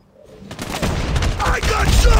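Rapid automatic gunfire from an HVK-30 assault rifle in Call of Duty Mobile during a ranked multiplayer match, loud bursts building from near silence into a dense, continuous volley with other shots and game noise layered over it.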